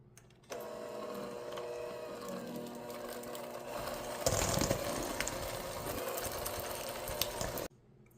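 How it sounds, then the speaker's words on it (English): A handheld electric mixer creams butter in a bowl for Christmas tart bars, giving a steady motor whine that runs for about seven seconds and grows louder and rougher partway through as the beaters work the butter. "I'm just going to use a handheld mix master."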